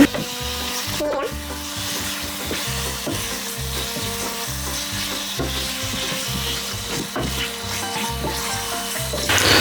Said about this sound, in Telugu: ఇప్పుడు ఏం చేద్దామంటే ఇందులో చికెన్ వేద్దాం. చికెన్ వేసి కలుపుదాం ఫస్ట్.